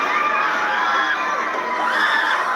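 A crowd in a packed gathering hall screams and cries out, a dense, continuous wall of loud agitated voices with shouts rising above it throughout.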